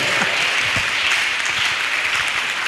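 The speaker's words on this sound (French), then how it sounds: "On acclame pour des pères et des mères." Dense, steady audience applause fills the whole stretch at a father-and-son discussion event, a continuous wash of many hands clapping with no voices over it.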